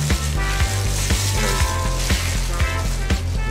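A flour-coated pork chop fries on an outdoor Camp Chef griddle, giving a loud, steady sizzle with repeated soft knocks from pressing and flipping, and no talking.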